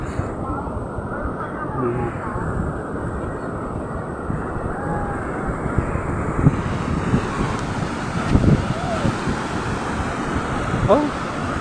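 Sea waves wash onto a beach in a steady, loud rush while wind buffets the microphone, with a few faint voices and small sounds scattered through.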